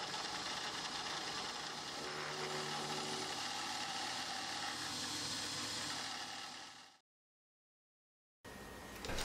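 A milling machine with a rotary table cuts metal for an expansion link, giving a steady, dense grinding hum for about seven seconds before stopping abruptly, then starting again briefly.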